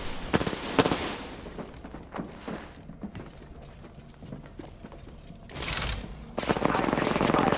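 Gunfire in an Apex Legends arenas match, heard as rapid clustered shots and bursts with mechanical clicks and impacts, loud and close, rising again toward the end.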